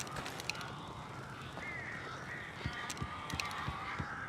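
Crows caw in the video game Alan Wake, a few faint, harsh calls against a low ambient wash, with quiet thuds near the end and no talk.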